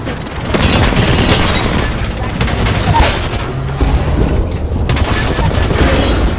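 Airstrike explosions from a Hell Let Loose style WWII shooter on a small map, heavy booms and rolling gunfire thundering continuously, loud and close, with voices faintly under the din.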